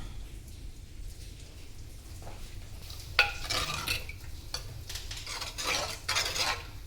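Sardine curry being stirred in a pan, faint metal scrapes and soft clinks over a quiet simmering hiss, growing busier in the second half.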